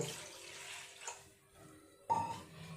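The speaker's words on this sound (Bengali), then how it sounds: "এই জায়গার মধ্যে কিছুটা জল দিয়ে দিলাম" Water poured into a bowl in a kitchen while preparing grated potatoes for fried potato sticks, a soft splashing stream near the end after quieter handling sounds.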